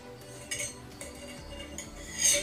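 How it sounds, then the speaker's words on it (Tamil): Spoon scraping and clinking against a bowl while rava laddu mixture is stirred, with light irregular taps and a brighter clink near the end, close and fairly quiet. "ரெண்டுத்தையும் நல்லா கலந்துக்குவோம்"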